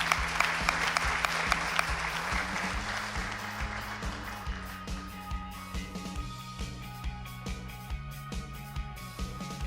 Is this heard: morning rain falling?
no